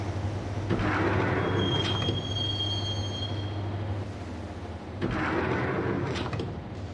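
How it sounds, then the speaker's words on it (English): Train ride in the Max Payne video game: a steady rumbling carriage with a high metallic wheel squeal for a couple of seconds, then a louder surge of rolling noise, heard alone without voices. "the train doors had already shut behind me, and I was in for the ride"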